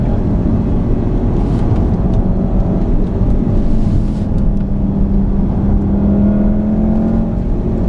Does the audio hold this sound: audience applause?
no